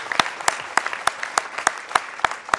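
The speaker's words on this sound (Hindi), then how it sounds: "और अब तालियां बजाइए" Sparse, evenly spaced hand claps from a small audience at the Amrit Ratna 2023 award ceremony honouring Mary Kom, about nine crisp claps in a steady rhythm, fairly close and without talk.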